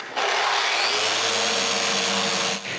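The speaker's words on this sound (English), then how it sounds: "and I can sand this" Power sander working on small mahogany and maple boxes of old reclaimed wood, a steady loud whirring drone that starts abruptly and runs for a couple of seconds before cutting off, no talk.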